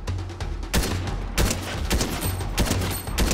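Ranger assault rifle firing in Fortnite, rapid loud bursts of gunshots in quick succession, close and continuous across the clip with a brief pause between volleys.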